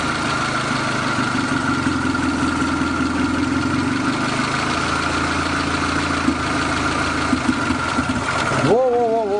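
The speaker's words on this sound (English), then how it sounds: "this is the engine running with the distributor" Car engine idling with its carburetor and distributor, fuel injection removed: a steady, loud, throbbing idle close by, with a voice starting up near the end.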